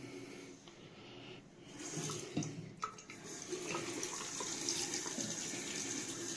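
A battery-powered M15 sensor foam soap dispenser pumps out foam with a steady, close hiss of air and liquid, swelling louder after the first couple of seconds and holding continuously, with no talking.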